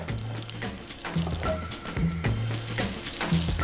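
Butter and groundnut oil heating in a pan before scallops are added, giving a soft, steady sizzle under louder background music.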